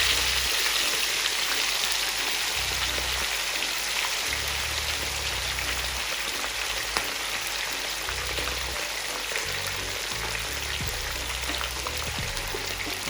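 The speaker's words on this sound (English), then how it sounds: "And we'll fry them up on low heat" Sea bass fillets frying gently in oil over low heat give off a steady, even hiss that holds without a break from start to finish, with a faint low rumble underneath.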